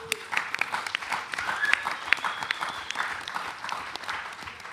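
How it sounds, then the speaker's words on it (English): Audience applause at Rototom Sunsplash reggae festival honoring Mad Professor and 45 years of Ariwa, a moderate crowd clapping steadily with a few sharper claps and some voices mixed in. "Give him a big round of applause"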